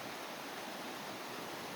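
A river flowing through the Finnish countryside gives a steady, broad rushing wash of water that stays even and continuous throughout, with no voices.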